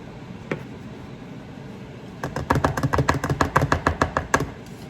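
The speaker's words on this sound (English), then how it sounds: "So you just start kind of stirring that in." Buttermilk being stirred into biscuit dough in a bowl: after a quiet start, a quick run of rhythmic thumping strokes repeats about a dozen times, close and fairly loud, without speech.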